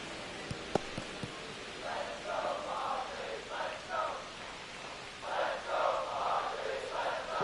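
Stadium crowd at a Braves–Padres game in San Diego from MLB The Show 25, a steady murmuring roar that swells in several waves, with a few sharp knocks early on.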